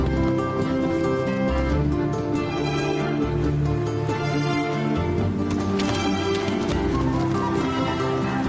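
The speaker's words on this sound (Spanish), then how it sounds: "El Loco y los otros caballos formarán parte de nuestra expedición de subida a la montaña" Horses ridden with homemade cloth saddles and stirrups cut from old tires clip-clop steadily along a mountain trail, hoofbeats continuous and moderately close beneath a bed of music.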